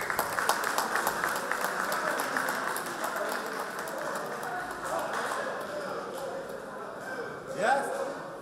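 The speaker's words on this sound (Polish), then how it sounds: "Wielkie brawa." Crowd applause at an award ceremony, steady dense clapping throughout with voices mixed in, moderately loud and continuous.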